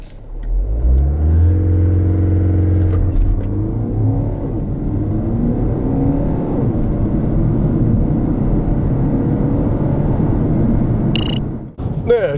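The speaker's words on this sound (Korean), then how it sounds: "그렇다면 X2의 가속 성능은 어떨지 한번 살펴볼까요?" A 2019 BMW X2 xDrive20d diesel crossover on 20-inch alloy wheels accelerates hard in a 0-100 km/h test, its engine droning loudly and rising steadily in pitch through successive gears for about ten seconds before the noise suddenly drops away.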